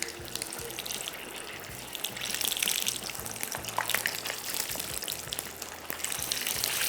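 Boiled, skin-on potato pieces slide one by one into hot oil for a khichdi dish, setting off a steady, close crackling sizzle with splashy bursts that swell and fade, no voices.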